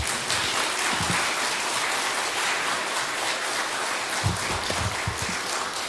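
A church congregation at a Sunday service applauding as an elderly pastor comes forward, sustained dense clapping filling the room at an even level for several seconds.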